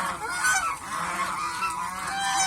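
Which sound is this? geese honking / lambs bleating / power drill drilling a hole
geese honking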